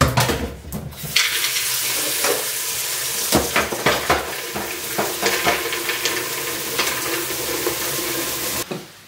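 Pasta heated in a pan on a home stove, with steady sizzling, stirring and clanks of pots and pans close up, plus brief tap water at the start and end.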